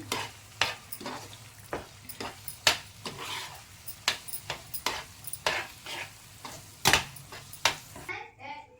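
Masala spice powder and oil for mango thokku being stirred in a pan, a spoon tapping and scraping the pan in a steady quick rhythm over a low sizzle, close by, with a voice speaking softly in the background.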